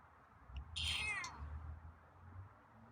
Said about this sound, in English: Heard you meowing just a moment ago.